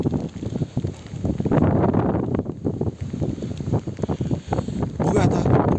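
Strong gusty wind buffets the microphone beside the water during fishing, a loud continuous roar with rustling swells and no clear speech.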